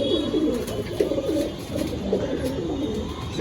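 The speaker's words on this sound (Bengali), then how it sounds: "একটা রামপুরি পায়রা আছে।" A Rampuri pigeon, a female competition bird, coos in low, soft, repeated murmurs close by against a steady background hiss.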